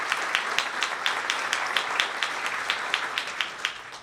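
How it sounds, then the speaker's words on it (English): An awards-ceremony audience gives teachers a round of applause: dense, steady clapping from a crowd, fairly loud and continuous throughout. "So another round of applause to all of our teachers of the year."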